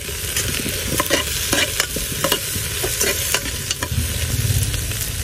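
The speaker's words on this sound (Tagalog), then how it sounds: "Yan, sauté lang natin." Garlic, onion and ginger sauté in a hot pan for beef pares, a loud continuous sizzle broken by repeated scraping stirs close at hand.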